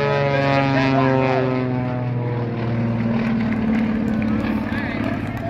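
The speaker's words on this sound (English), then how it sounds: "as we watch him fly that airplane around again" A propeller aerobatic airplane performs at an outdoor airshow festival, its engine droning loudly with a strong steady tone that shifts slightly in pitch as it passes overhead, heard nearby and continuous.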